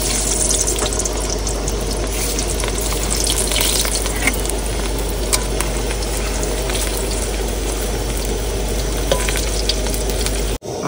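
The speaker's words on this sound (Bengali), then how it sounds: "তেল গরম হয়েছে, আলুগুলো ভেজে নেবো" Potatoes frying in hot oil in a home kitchen, giving a steady, close, dense sizzle with faint stirring scrapes that runs unbroken for about ten seconds before cutting off at the end.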